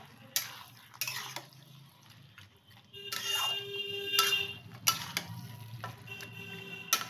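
Spoon stirring eggplant begun muro with coriander in a pan, giving scattered scrapes and clinks against the metal with a faint sizzle under them, close and with no talk.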